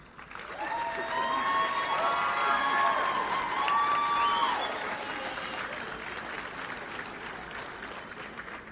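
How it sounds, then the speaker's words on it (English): A crowd at a nursing graduation and pinning ceremony applauds steadily, swelling then gradually fading, with some cheering mixed in and a voice speaking over it. "Give them a round of applause."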